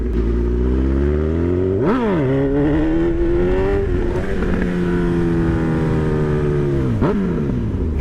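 A 2025 Honda CB1000 Hornet motorcycle being ridden, its engine loud and close with rising revs, sharp drops at gear changes, then a long steady pull before another quick shift.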